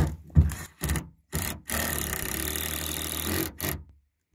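A power drill driving screws into a wooden dock on a remote Alaska lake whirs in short bursts and then one longer sustained run, close and fairly loud, with brief pauses between.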